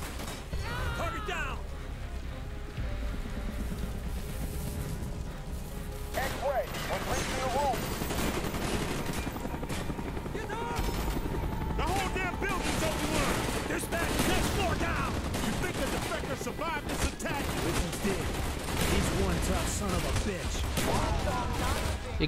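Dense, continuous gunfire from a gun in the video game Call of Duty: Black Ops, rapid bursts and shots layered with battle noise throughout, with voices talking over it.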